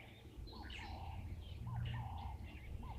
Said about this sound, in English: We have some birds calling.